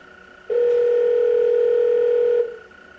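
A steady, loud telephone dial tone holds for about two seconds and then cuts off, heard close and alone on a landline call being placed for a talk show.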